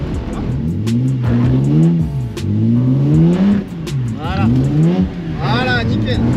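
Car revving and drifting on a wet, low-grip surface during a figure-eight drift lesson, with repeated rising engine sweeps and a voice talking over the revs, up close.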